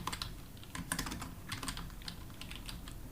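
Steady typing on a computer keyboard, with quick clustered keystrokes close up throughout over a constant background hiss, no talking.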